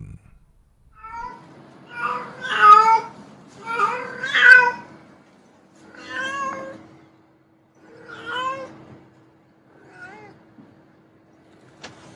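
A cat in heat yowls in a series of long, drawn-out wailing cries, loud and close, spaced a second or two apart and gradually fading toward the end.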